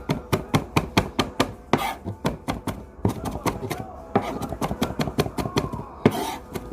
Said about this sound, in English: I'm just going to chop it again